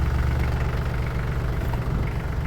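A Branson tractor engine idles steadily in icy cold weather just after starting, a low, even diesel-like chug with a faint knocking rhythm, close and continuous with no voices.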